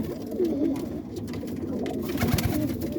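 A tame pet pigeon coos close by, several low throaty rolling calls in a loose rhythm, with light rustling around it and no talking.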